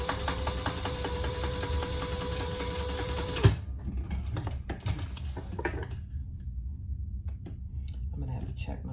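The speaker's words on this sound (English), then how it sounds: "Then I think I'm going to come from the bottom, top stitch on the pen," A sewing machine runs fast and close for about three seconds, topstitching a pen pocket on a hobo shoulder bag, with rapid rhythmic needle clatter. It stops abruptly, then light handling clicks and rustles follow.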